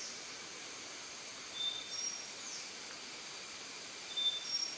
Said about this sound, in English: what you heard before was of cicada